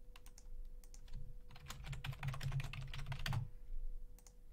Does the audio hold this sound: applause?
no